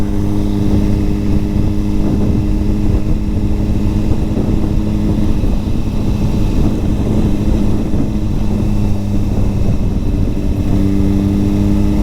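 A Suzuki GSX-R1000 sportbike ridden on the road, its engine a loud, continuous buzzing drone with steady tone and rushing wind noise throughout, heard from on the bike.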